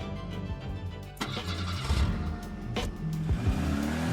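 A car engine cranks and catches, then idles with a low mid-pitched rumble and some shifting revs, fairly close and steady with no talk over it.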